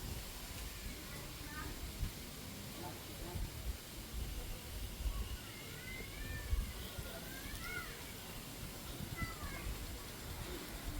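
A cat at Bali Zoo lets out several soft, drawn-out meows spread across the stretch, fairly distant and quiet beneath a low murmur of background voices and outdoor ambience.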